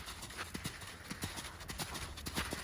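Hooves of a horse cantering in an arena, producing a steady rhythmic clip-clop of soft, faint thuds in quick repeating groups, somewhat distant, with no talk over them.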